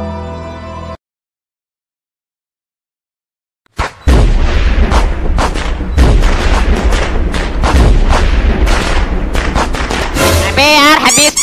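Diwali firecrackers in a cartoon burst loudly after a short silence, a dense, rapid string of sharp cracks and booms continuing without pause, with a whistling rocket-like sweep near the end.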